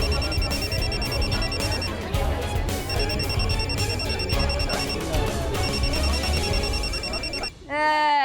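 An electronic phone ringtone repeats in three bursts over busy background noise and voices, then cuts off near the end.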